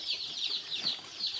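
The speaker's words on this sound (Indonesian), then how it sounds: "dia lagi nanam ayam joper teman-teman" Three-day-old joper chicks in a coop give a steady chorus of high, thin peeping, continuous and fairly close, with no voices.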